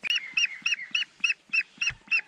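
A mulard duck gives a run of about nine evenly spaced, nasal honking calls, close and fairly loud, with no talking over them.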